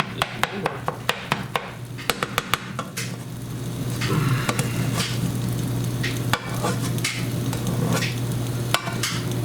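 Chopped meat frying in a pan, a steady sizzle throughout with sharp clicks and scrapes of a utensil stirring and tapping the pan, close and loud with no voices.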